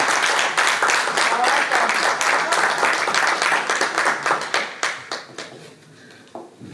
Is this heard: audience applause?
yes